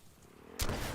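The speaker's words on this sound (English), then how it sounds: "Under fire." Warzone gunfire erupts partway through as a loud, dense burst of shots that drowns out the quieter game ambience before it.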